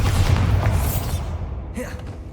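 A Bombarda spell explosion in Hogwarts Legacy, a deep booming blast that rumbles low, then fades into lighter crumbling and debris sounds, with no voices.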